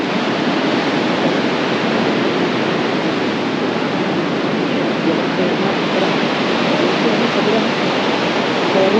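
Rough sea at Kovalam beach roars as a loud, continuous wash of surf, with wind buffeting the microphone and no breaks in the noise.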